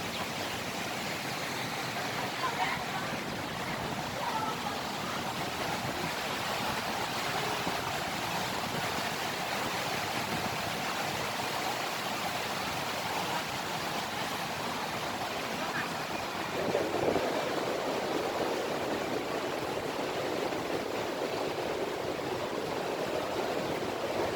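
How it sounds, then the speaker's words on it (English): Steady river water rushes and hisses beneath the Khaju bridge in Isfahan, a continuous broadband flow heard at moderate volume, with a slight shift in texture near the end. "An exciting feature of the bridge is the different sounds of water on each side."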